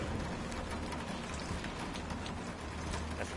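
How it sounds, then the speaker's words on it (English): Acid rain pouring steadily in the video game Death Stranding, a dense, continuous hiss of falling drops with no pause and no talk. "Acid rain."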